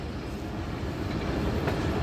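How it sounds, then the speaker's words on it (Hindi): The Rehman Baba Express departs Taxila railway station, a steady low rumble of the moving train with faint rail noise, loud and continuous, no voices. "दोस्तों ट्रेन टेक्सला रेलवे स्टेशन से डिपार्ट कर रही है।"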